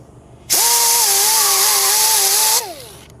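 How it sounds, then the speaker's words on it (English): A power tool with a grinding disc grinds a gouge out of a damaged wheel rim, a loud, steady high whine that starts abruptly and holds for about two seconds before cutting off and winding down. "So we're gonna have to try to grind that out."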